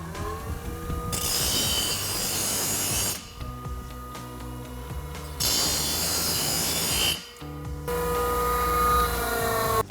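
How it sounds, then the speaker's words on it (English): A bench grinder cleans up the cut edges of a steel exhaust pipe for a Ford F-150 EcoBoost Flowmaster system, with loud grinding bursts separated by short quieter gaps, close and with no talk. "Now we're gonna come over to the grinder and clean up all of our edges."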